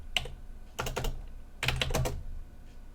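Close keystrokes on a computer keyboard come in two quick bursts of clicks separated by a short pause.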